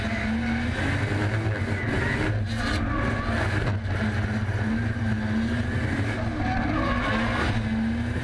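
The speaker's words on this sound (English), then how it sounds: "Tyres screaming, engine screaming" A Nissan R34 Skyline race car drives at full throttle with its engine screaming in a sustained high drone. Its tyres squeal and skid throughout, loud and continuous, with faint background talk.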